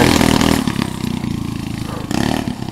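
A fully built Cran-Kart go-kart engine revs nearby, with a loud rough buzzing drone that drops slightly, then surges again toward the end, with clattering mechanical noise.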